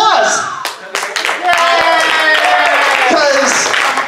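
Audience clapping at an amateur stage show, bursts of applause blending with loud cheering and excited voices from a nearby crowd.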